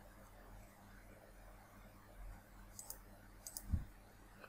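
Mouse clicks while working in Studio 5000 Logix Designer software, a few soft, close clicks late in the clip over a quiet background hum.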